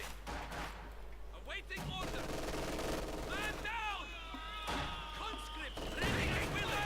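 Gunfire and explosions rattle through a Company of Heroes 2 battle as an MG-42 machine gun pins down Soviet conscripts, with bursts and impacts piling up over a dense wash of battlefield noise and in-game voices.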